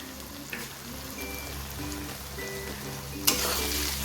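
Ghee hitting cooked cabbage in a hot pan, giving a steady, close, crackling sizzle throughout, with a couple of sharp clinks from a utensil.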